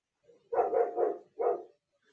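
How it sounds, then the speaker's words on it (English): A dog barks at night in a quick run of three close, loud woofs, then one more after a short pause. "He starts barking like that."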